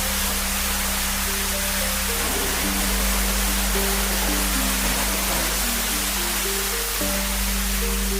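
Water from a waterfall pours down inside a resort room with a private pool, making a steady, loud broadband rush with no breaks, mixed with faint tonal background music.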